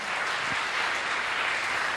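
A church congregation applauds in a steady, continuous wash of clapping that holds at an even level for two seconds.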